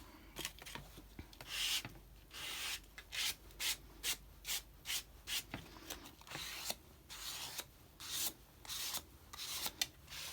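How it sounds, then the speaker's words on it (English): Paint scraped repeatedly across paper for a junk journal background, a steady run of close, dry rasping strokes in a quick rhythm with short pauses between them, and no voices. "I'm just going to keep applying and scraping the paint around until I get what I like"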